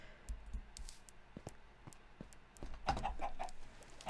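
Chickens in the Minecraft video game cluck in short, sparse bursts with a few clicks, growing busier toward the end, fairly quiet and with no talk over them.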